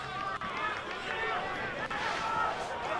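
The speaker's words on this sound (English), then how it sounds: "crowd getting into it here, Tomo, you can hear" A crowd at a country Australian rules football match, Echunga against Kersbrook, makes a steady roar of cheering and babble, moderately distant and continuous for a few seconds.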